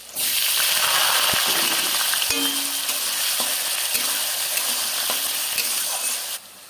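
Ginger, garlic and potatoes sizzle and fry steadily in a pan, a continuous loud hiss with a few soft clicks of stirring, cutting off near the end.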